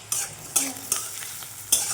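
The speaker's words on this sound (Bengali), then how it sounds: "পেঁয়াজটা ভেজে নেব।" Chopped onion frying in white oil in a pan for a green moong dal tarka, a soft steady sizzle broken by several sharp scrapes and clinks of a spatula stirring at irregular intervals.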